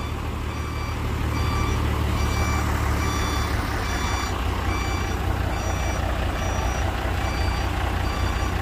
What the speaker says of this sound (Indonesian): Proses evakuasi penarikan truk Hino Lohan ya bosku, tarik dengan puso 6x4 ya bosku HD